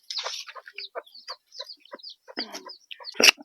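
A backyard hen clucks in quick, irregular bursts close by, with short chattering calls and a louder squawk at the end.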